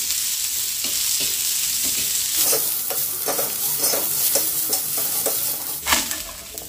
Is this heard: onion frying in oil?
yes